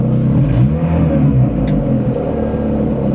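A Lada Priora 16-valve engine running on LPG gives a steady, close idle rumble with a faint whir layered on top and no clear revving, and it carries on without pause through the whole stretch.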